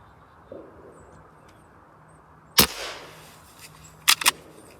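Hatsan Vectis air rifle fired at targets: a sharp crack near the middle, then a quick double snap toward the end, with faint bird calls and quiet outdoor background between shots.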